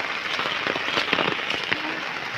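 Heavy rain pours steadily in a muddy village outdoors, a dense continuous hiss with scattered heavier drops, fairly close and without talk.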